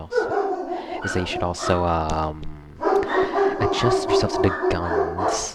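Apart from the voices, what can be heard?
dogs barking in the background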